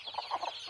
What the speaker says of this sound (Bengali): দেখেন মুরগাগুলো খাচ্ছে সুন্দর হয়ে